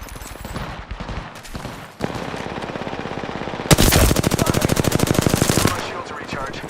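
Rapid automatic gunfire in a battle royale video game, a loud sustained burst of evenly spaced shots lasting a couple of seconds, preceded and followed by quieter shots and game noise.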